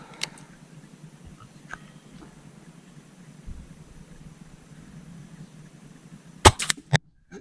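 A Webley and Scott Jaguar junior air rifle fires once with a sharp, close snap followed by a quick mechanical clatter, set against a quiet background hum.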